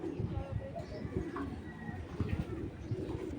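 A racing pigeon held in the hand gives soft, low, throaty coos that repeat irregularly, close by and quiet, with someone talking faintly alongside.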